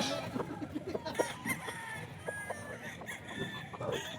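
Gamecocks kept in a yard in Bocaue crowing and clucking amid a busy, noisy background, with several short fowl calls and one longer crow rising through the din.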